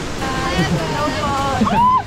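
A waterfall's heavy spray pours down like a shower, a loud, steady rush and hiss with voices calling faintly under it.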